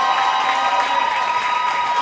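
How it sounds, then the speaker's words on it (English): A home crowd gives a standing ovation for a senior guard at a girls' high school basketball game, producing steady, loud, sustained applause and cheering with an even crowd roar. "Getting a standing ovation here from the Comet crowd for the senior guard."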